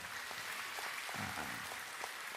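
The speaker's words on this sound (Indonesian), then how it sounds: "Tepuk tangan buat Abah Sulaiman." Applause from a large gathered congregation at a religious talk, a dense, even wash of many hands clapping at a distance, steady throughout with no voices standing out.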